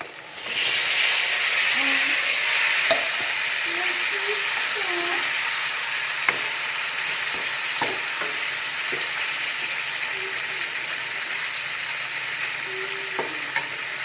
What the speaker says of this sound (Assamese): মছলাখিনি ৰেডি আৰু এতিয়া মাংসখিনি মই দি দিম।